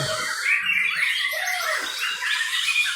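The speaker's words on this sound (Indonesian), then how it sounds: "dengarkan suara burung." A dense chorus of songbirds chirps and twitters continuously at a songbird singing contest in Meulaboh, Indonesia, many overlapping high calls filling the air.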